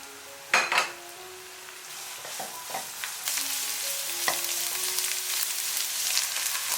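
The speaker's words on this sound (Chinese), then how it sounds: "接着我们来起锅热油，把配料炒香" Aromatics stir-fried in hot oil in a wok for Cantonese turnip cake: a steady sizzle with a few sharp clinks and scrapes of a utensil against the pan, close and fairly loud.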